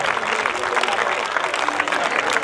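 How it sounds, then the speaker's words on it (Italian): Audience applause at an award ceremony for a skyrace, a steady dense wash of clapping from a crowd, moderately loud and continuous throughout. "Un grande applauso per i ragazzi."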